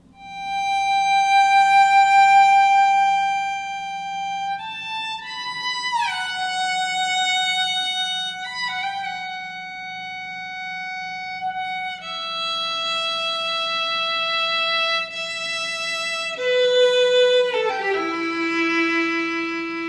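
Dry, reverb-free sampled solo violin from the Embertone Friedlander library plays a slow melodic line of sustained bowed notes with slides between pitches, clear and close, with no talking.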